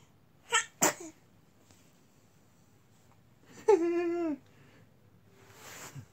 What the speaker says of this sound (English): he sneezed again